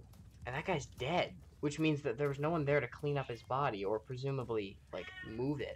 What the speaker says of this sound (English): I'm not sure if you can hear my cat in the background,